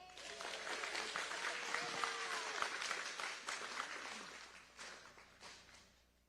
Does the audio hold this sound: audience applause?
yes